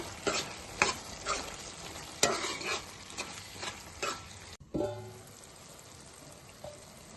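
Spoon stirring coriander powder and garam masala into a pan of aloo methi curry, with soft scraping strokes and a light sizzle repeating every second or so, followed by a quieter simmering stretch with a few faint knocks.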